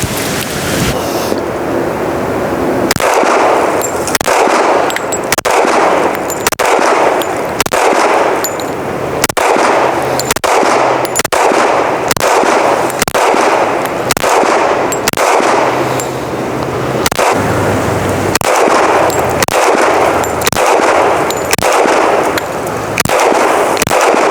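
Unsuppressed firearm shot repeatedly at a range, a long series of loud, sharp cracks spaced a second or so apart, each trailed by a brief echo, with no talking.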